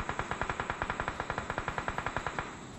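Rapid automatic gunfire in the BGMI mobile battle royale game, about twenty sharp, evenly spaced shots in a steady burst lasting nearly three seconds, loud and close.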